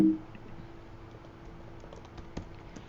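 Soft, quick keystrokes on a computer keyboard as a command is typed into a terminal, a short run of light clicks that ends with one slightly firmer tap, close and quiet with no talking.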